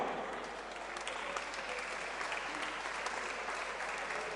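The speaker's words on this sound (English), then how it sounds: "Ladies and gentlemen, round of applause for both fighters this evening." Crowd applauding both fighters after an MMA middleweight title fight, continuous even clapping from a large audience heard at a distance, steady and unbroken.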